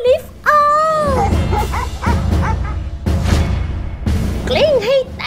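Dogs bark, yip and whine in sharp, close bursts at a barking contest, while people's voices talk over and between the calls.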